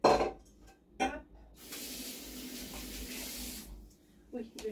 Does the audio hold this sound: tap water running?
yes